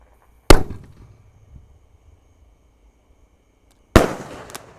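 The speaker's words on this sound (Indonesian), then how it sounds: "Kita lihat sudah menyala Sunggokong guys." Sunggokong firework lit outdoors on a festival night, two sharp loud bangs a few seconds apart, each with a short crackling tail, and quiet in between.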